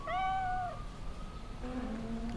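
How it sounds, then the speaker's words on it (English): A cat in Cyberpunk 2077 lets out one clear, close meow at the start, followed by a softer, drawn-out second mew under a quiet background. "Shush, I'm talking to the cat."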